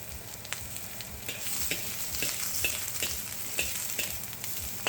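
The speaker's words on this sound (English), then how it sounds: "We're throwing our garlic." Garlic hits a smoking-hot pan over very high heat, giving a steady bright sizzle with crackling pops throughout, close and fairly loud with no talking.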